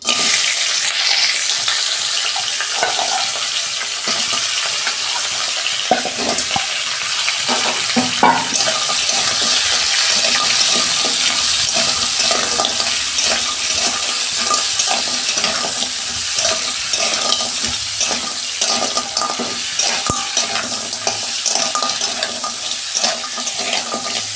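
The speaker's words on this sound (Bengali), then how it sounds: "তেল গরম হয়ে গেছে, আমি কাঁকড়াগুলো ভেজে নিচ্ছি।" Sea crabs fried in hot oil in a wok, a loud continuous close sizzle and crackle with occasional stirring clatter, steady throughout without speech.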